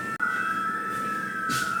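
An emergency siren wails at a steady pitch with a faint, even tone throughout, heard from a distance for about two seconds, with brief rustling around it.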